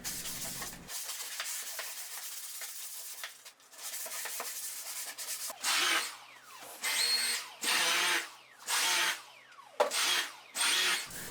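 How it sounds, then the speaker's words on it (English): Sandpaper of 240 grit rubbed by hand over painted furniture, a series of six rhythmic rasping strokes, close and fairly loud, after a stretch of quieter scraping. "I'm just going to hand sand it"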